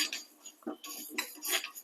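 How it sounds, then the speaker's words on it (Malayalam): Moong dal dry roasting in a pan, with a spoon scraping and clinking against the metal in short, irregular strokes, close and fairly quiet with gaps between stirs. "ഇനി ചെറുപരിപ്പ് അതേമാതിരി വറുത്തെടുക്കാം"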